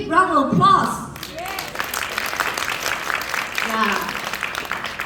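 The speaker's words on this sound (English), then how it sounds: "I think you should give yourself a big round of applause." Brief speech at first, then a crowd breaks into sustained applause, steady clapping filling the room for several seconds.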